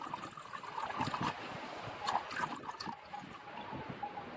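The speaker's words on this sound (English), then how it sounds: "add water to a kadai or any steamer" Water poured into a kadai used as a steamer, a soft, continuous splashing trickle heard close up and fairly quiet, with no talk over it.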